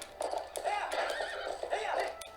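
A horse in The Legend of Zelda: Twilight Princess gives a loud, close whinny over quick clip-clopping hooves as it is spurred forward, the neigh rising and falling across the galloping beat.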